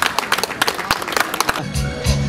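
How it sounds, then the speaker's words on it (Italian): Crowd applause at a town festival lights switch-on ceremony in Sava, Taranto, with dense clapping in the first part that gives way to a music-like tonal passage near the end. "Un fortissimo applauso"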